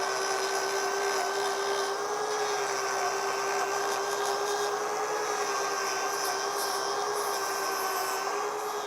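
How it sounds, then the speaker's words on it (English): An angle grinder runs steadily for several seconds as it thins out a cow's hoof during trimming, giving a loud, continuous high whine with an even pitch and no talk. "we're going to thin this out with the grinder and then make sure we've got all of that gunk out of there"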